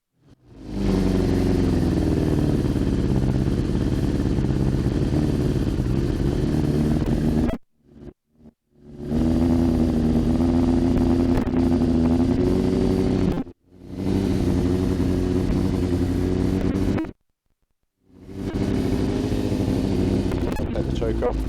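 A Kawasaki ZX6-R motorcycle engine runs loud and close in long steady stretches with the choke off, cutting out briefly between runs.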